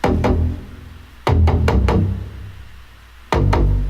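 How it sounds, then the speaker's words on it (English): Deep synth bass notes hit in a loose pattern, each one swelling and trailing off in a long reverberant tail, loud and alone. "super fat bass that sounds like this"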